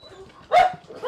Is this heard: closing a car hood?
no